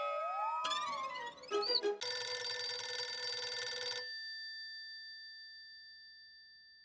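An incoming call sets off an electronic phone ringtone, a rising melodic jingle that breaks into a loud buzzing ring, then a single tone lingers and fades out.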